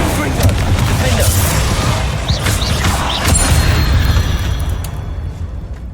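Explosive spells cast in a Hogwarts Legacy battle against a spider: a dense, loud run of booming blasts and bursts with continuous low rumble, carrying on for several seconds before easing slightly at the end.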